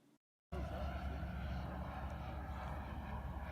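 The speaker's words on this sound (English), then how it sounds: "There are two engines aboard this aircraft, each putting out about 35 pounds of thrust." An RC F-4 Phantom scale model jet powered by two kerosene gas turbine engines, each around 35 pounds of thrust, roars loudly and steadily after a brief quiet gap, its broad rushing whine holding near and constant.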